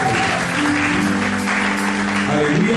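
Church congregation clapping together in steady, sustained applause during a worship service, loud and close, with voices mixed underneath.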